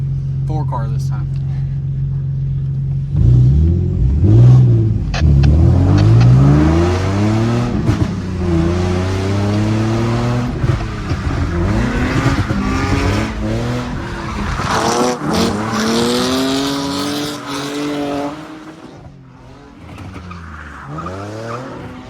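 Drift cars sliding in tandem on a wet track on a rainy Christmas Eve, engines revving and rising in pitch with long tire squeals and skids, loud and close, voices talking over them.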